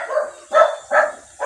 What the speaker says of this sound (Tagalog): Ayan, may aso pa.